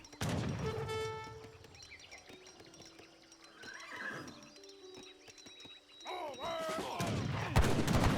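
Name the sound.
musket volley gunfire in video game Age of Empires 3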